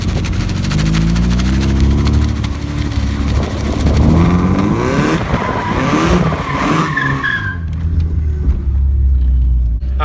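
Nissan 240SX with a welded differential pulling away hard in first gear: a loud, close engine rev climbs under heavy tyre squeal and skidding, then the noise drops away near the end.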